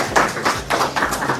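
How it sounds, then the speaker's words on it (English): Audience clapping to welcome a monk before a Dharma talk, a brief spatter of hand claps in uneven rhythm, fairly close and moderately loud. "give him a round of applause for coming"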